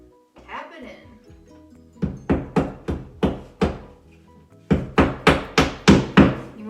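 A brief voice, then a series of sharp hammer taps driving a drywall anchor into a wall, in two groups of about five and then seven evenly paced knocks.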